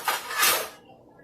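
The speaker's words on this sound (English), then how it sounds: "you want to put the lid on" A lid set down onto a pot of rice cooking on a hot stove, one brief clattering metallic contact with a short scrape, then quiet.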